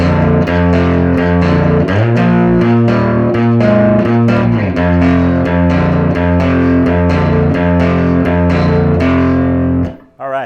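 Electric guitar playing the R&B bass-line rhythm part of a 1956 song, a 12-bar blues figure, with a distorted tone and steady repeated note patterns that stop abruptly near the end.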